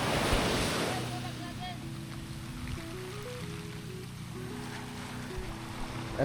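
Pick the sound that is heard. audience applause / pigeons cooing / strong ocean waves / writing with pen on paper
strong ocean waves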